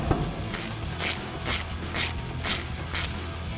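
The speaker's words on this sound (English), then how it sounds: "I'm going to take my 17mm and my 1/2" drag ratchet, break them loose." A 1/2 inch drag ratchet on a 17mm socket loosens brake bolts on a 2014-2021 Toyota Tundra, giving seven evenly spaced, close ratcheting clicks at about half-second intervals.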